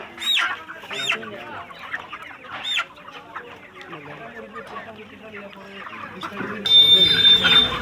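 Many chickens cluck and squawk close by at a crowded village poultry fair in a market, with repeated sharp calls over a busy background, and a loud harsh burst near the end.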